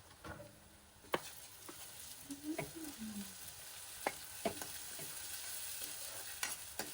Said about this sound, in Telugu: ఇప్పుడు అల్లం వెల్లుల్లి పేస్ట్ కూడా వేసుకొని మరి కొద్దిసేపు వేయించుకుందాం.